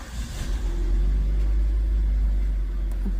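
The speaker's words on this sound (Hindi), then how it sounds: "दिखाता हूँ स्टार्ट करके आपको गाड़ी एक बार।" A Maruti Suzuki car engine cranks and catches, then settles into a steady low idle rumble close by, with no talking over it.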